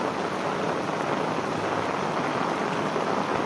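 Steady heavy rain pours down in a village, a dense, continuous hiss of drops striking surfaces with no breaks, loud and close throughout.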